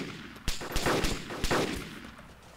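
Gunfire in the DayZ video game, two or three sharp shots with reverberant tails spaced under a second apart, moderately loud against a low ambient background.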